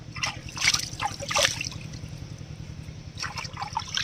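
Garden greens being rinsed in water at a pond ghat, with bursts of splashing and trickling in two spells separated by a quieter stretch, under a low steady background hum.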